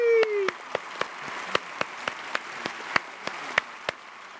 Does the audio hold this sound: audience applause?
yes